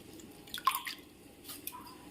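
Faint water drips and small splashes from rinsing drumstick leaves, a few soft bursts spaced out over a quiet background.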